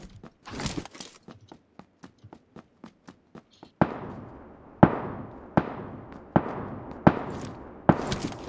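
Gunshots in PUBG Lite: a run of faint, distant pops, then louder, sharper single shots spaced about a second apart, each with a short echoing tail.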